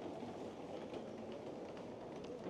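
A train rolls along a London line, likely in the Underground near Leicester Square, giving a steady, dense rumble with faint rail clatter that stays even throughout and sounds close, with no voices over it.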